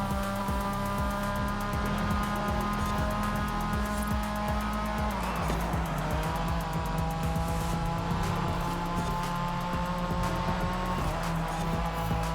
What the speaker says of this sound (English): this Porsche here is actually quite quick and decent to drive